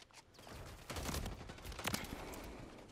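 Rapid bursts of video-game gunfire, including a ray gun, crackle through the whole stretch with louder volleys near the middle, a busy close-up barrage with no speech.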